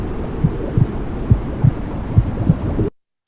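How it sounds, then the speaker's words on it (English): A mother's heartbeat as heard from inside the womb: soft, muffled, low thumps in a steady rhythm over a dense whooshing rumble, then a sudden cut to silence. "So the mother heartbeat is the very first connection we have with sound."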